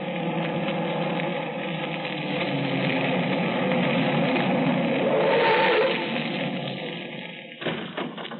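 A car drives off in a 1943 radio drama: a steady, loud engine drone holds throughout, swelling briefly near the end before easing, with no voices.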